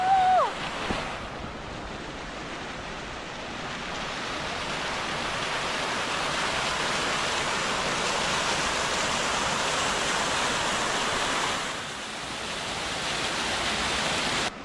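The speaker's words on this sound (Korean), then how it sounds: "물소리가 들려." Water rushes loudly and continuously near a forest trail in Malaysia, a broad steady roar like a stream or small waterfall that barely dips throughout.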